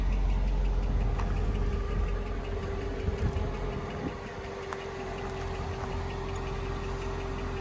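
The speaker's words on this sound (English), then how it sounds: "That belt might be making a little noise." A running Mercedes engine idles with a faint belt tick under the steady rumble; a few sharp clicks stand out briefly against the even, close drone.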